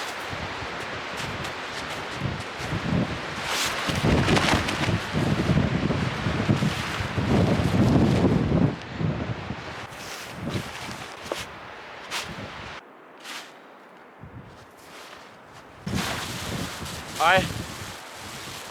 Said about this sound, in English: especially in this windy weather